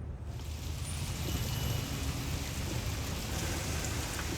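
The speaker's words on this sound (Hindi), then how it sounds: "अरे वाह, बारिश।" Steady rain falls hard and close, a dense even wash of drops hitting surfaces throughout.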